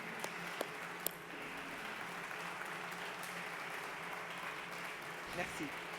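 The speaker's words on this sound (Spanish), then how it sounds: "me gustaría que les aplaudiéramos porque realmente me parecen admirables" Sustained applause from a lecture audience honoring translators at the Trobades Camus 2021 event, a steady dense clapping that fills the whole stretch with a few sharper claps early on.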